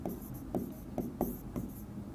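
Chalk or marker strokes on a board during a physics lesson, a series of short scratchy writing marks in an irregular rhythm, close and quiet with no talking.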